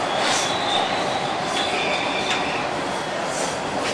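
An underground train rushes past with a loud, continuous roar and faint metallic squeals from its wheels, close by and without any talking.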